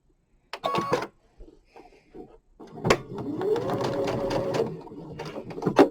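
A sewing machine stitches fabric while points are matched up for a quilt. Short handling knocks and brief stops come first, then a steady close mechanical whir runs for about two seconds before it slows.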